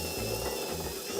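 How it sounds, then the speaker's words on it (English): Unibit step drill bit boring into composite material, a brief steady whirring grind of the power tool at close range with no talking. "let's switch over to the Unibit. Just make my life a little bit easier here. But that's what's nice about drilling out composite material is you can use a Unibit"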